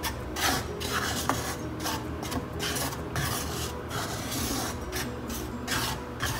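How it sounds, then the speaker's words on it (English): Wheat flour for atte ka halwa roasts in a pan and is stirred continuously, giving a steady, close scraping and rasping sound with rhythmic strokes throughout. "I'm going to roast this wheat flour for about 5 minutes. Keep stirring."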